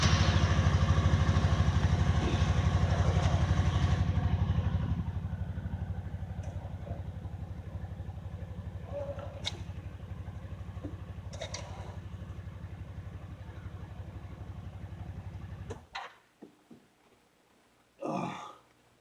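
Off-road vehicle engine running loud and close with a rough, steady rumble that eases slightly after a few seconds, then cuts out into a few clanks and a short final burst of noise.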